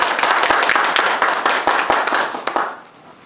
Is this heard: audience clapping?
yes